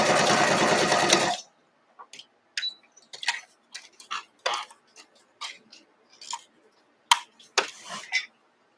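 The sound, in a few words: sewing machine stitching quilt block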